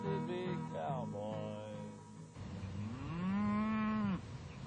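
Cattle moo at a campfire camp near Los Lunas, New Mexico, before a cattle drive: a couple of long, deep lowing calls, close and clear, with no talk over them.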